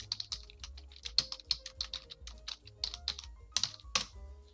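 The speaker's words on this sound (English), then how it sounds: "So if I type something," Rapid, uneven clicking of keys on a computer keyboard during a business calculus study session, close and fairly quiet, with a steady low background hum and no talking.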